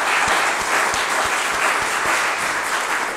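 An audience at a live concert applauds loudly and steadily, a full, dense roar of clapping with a few sharp individual claps standing out from the crowd.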